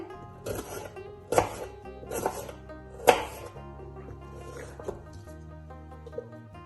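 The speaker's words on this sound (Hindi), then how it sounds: "एप्पल भी काट लेंगे।" A knife slices through an apple on a cutting board in a kitchen, giving several crunchy, moist cutting strokes at uneven intervals, up close, with quieter handling sounds between them.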